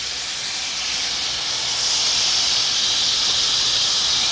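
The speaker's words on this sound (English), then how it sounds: "is heating in the pan, ready to receive the sausage" Sausage sizzles as it goes into a hot pan of defrosting ragu, a loud, continuous bright hiss that swells slightly and holds steady throughout.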